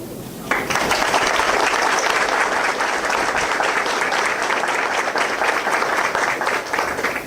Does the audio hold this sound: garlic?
no